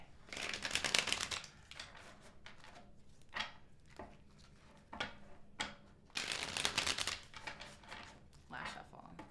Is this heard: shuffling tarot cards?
yes